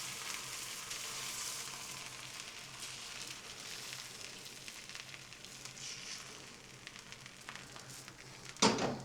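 Continuous soft sizzling and crackling of pancakes frying in animal fat in a pan, steady throughout with a brief louder crackle near the end.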